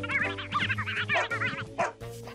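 A dog in a children's cartoon gives a string of yapping barks, several quick close barks in a row with a short pause before the last one.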